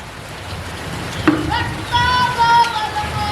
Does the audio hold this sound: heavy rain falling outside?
yes